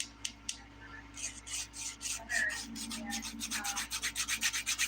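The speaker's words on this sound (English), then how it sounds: "I'm starting our filing." A nail file rasps across fingernails during a dip powder manicure, beginning at the pinky. A few faint scrapes lead into fast, rhythmic back-and-forth strokes, close and fairly quiet.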